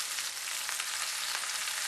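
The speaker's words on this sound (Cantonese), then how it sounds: "擺嗰啲肉球入去， 燒佢兩邊共3分鐘，" Mini lion's head meatballs fry in a pan, giving a steady, even sizzle with soft crackling throughout and no voices.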